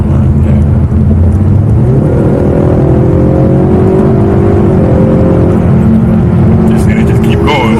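A tuned Ford Mustang EcoBoost four-cylinder pulls hard under acceleration, its engine drone rising steadily and continuously up close from inside the car, with people talking over it.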